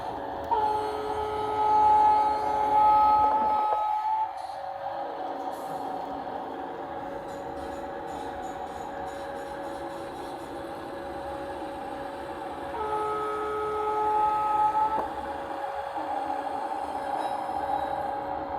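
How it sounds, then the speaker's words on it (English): A model WAP7/WAG9 locomotive with DCC sound sets off on a small shelf layout, giving steady electric motor and rail hum with horn-like tones near the start and again later, and no talk. "the loco will start moving automatically"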